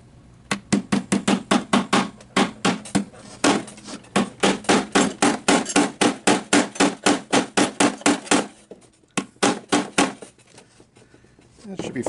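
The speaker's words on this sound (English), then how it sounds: "I'm just going to pound that into place here." Hammer pounding a T-nut into the edge of plywood on a small flight simulator build: a long run of rapid, sharp, close blows in a steady rhythm, pausing briefly near the end before a few final strikes.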